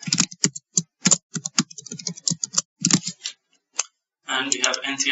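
Password typed on a computer keyboard, quick irregular clacking keystrokes with short pauses, followed by someone talking.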